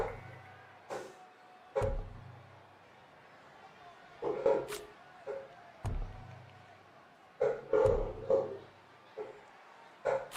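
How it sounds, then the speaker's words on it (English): Dogs in a room barking in short excited bursts, several sharp yips and barks spaced irregularly with quieter gaps between, fairly close and loud against a quiet background. "Doggies. Going crazy."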